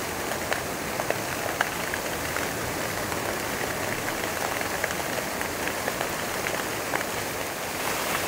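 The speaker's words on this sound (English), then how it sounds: "So we're at the tunnel fountain." Tunnel fountain in a park in Peru spraying water, a steady dense hiss of falling spray like heavy rain, constant and fairly loud with no talking.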